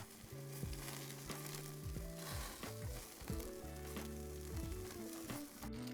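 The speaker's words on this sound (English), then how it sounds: "I hear a nice sizzle" Steady, close-up sizzling of boerewors sausage on a grill, a continuous crackling hiss with soft scraping and clinks throughout.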